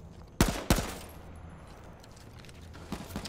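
Gunfire in the battle royale game H1Z1, with two sharp, loud shots in quick succession near the start and a softer burst of shots toward the end, heard alone.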